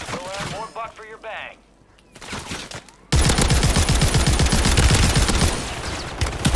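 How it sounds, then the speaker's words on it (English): Gunfire in Call of Duty Warzone on Rebirth Island: someone talks for a few seconds, then a loud, rapid automatic burst erupts and rattles on continuously and close by to the end. "Why are you shooting at me?"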